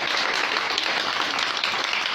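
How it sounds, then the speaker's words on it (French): A theatre audience in a cultural centre applauds loudly and steadily after a performance of a Joha play, dense clapping with no gaps. "Applaudissez très fort, s'il vous plaît."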